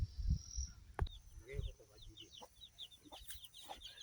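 Free-range chickens foraging in a rural homestead backyard give soft, scattered clucks and murmurs, faint and fairly close, with some low thumps and faint chirping in the background.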